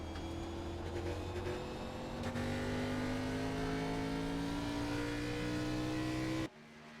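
A race car engine drones steadily with rising pitch as the throttle is eased on, loud and continuous, then cuts off abruptly near the end.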